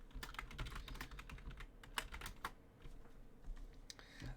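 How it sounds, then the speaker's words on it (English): Rapid, steady clatter of keys on a computer keyboard as a message is typed into chat, quiet and close, with no voices. "Let me type it in chat."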